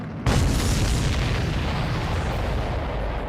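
Explosion of a supply ship in the video game Ace Combat 7, a sudden deep boom that bursts in loudly and then rolls on as a long, heavy rumble, with no voices.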